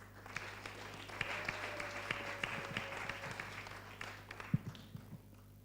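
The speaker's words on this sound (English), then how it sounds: "A round of applause for her again." Audience at a storytelling forum clapping in a round of applause, moderate and fairly even, with a low steady hum underneath and a few sharper individual claps standing out toward the end.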